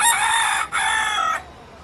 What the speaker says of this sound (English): it sounds like the singing of the rooster